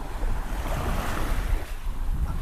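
Sea waves wash onto a beach on Rempang Island, a steady broadband surge with wind noise, continuous and fairly loud throughout, with no voices.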